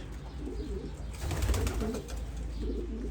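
Homing pigeons coo in a loft, soft, throaty rolling calls overlapping near and farther away against a low background hum.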